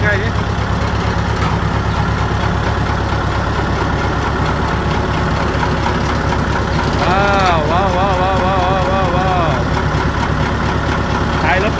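Heavy tractor engine idling while running a cattle feed mixer, a low steady rumble and rattling chug, close by, while voices talk over it.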